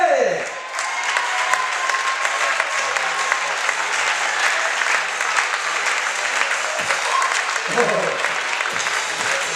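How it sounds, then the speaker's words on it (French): A thunderous round of applause from the audience at a club presentation evening in Port Camargue, dense clapping sustained steadily throughout with a brief dip near the start. "Un tonnerre d'applaudissements pour Mister Olivier"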